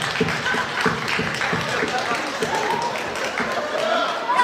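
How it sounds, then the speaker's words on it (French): A cinema audience and cast applaud at a film premiere at the Grand Rex in Paris: a broad, continuous crowd clapping with some distinct nearby claps, and voices and cheers mixed in under the ovation. "c'est nous qui allons vous applaudir"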